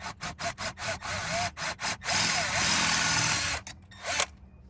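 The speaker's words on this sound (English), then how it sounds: "I'm going to start off with an 11/32 drill bit and then step it up until I get to 3/8." An 11/32 drill bit bores out a battery terminal on an FZJ80 Land Cruiser cable install, with a broadband grinding whine in short repeated bursts, then a longer sustained drilling run close up.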